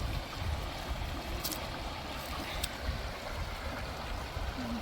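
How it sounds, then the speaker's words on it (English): Post Oak Creek runs fairly full, giving a continuous low rush and gurgle of flowing water, close and steady, with no voices. "the creek is rolling pretty good right now"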